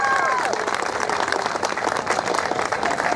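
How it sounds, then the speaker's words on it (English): Audience applause at an outdoor charity walk opening ceremony, a dense, steady wash of clapping that holds loud for the whole stretch, with a voice briefly audible at the start. "so let's give them a round of applause."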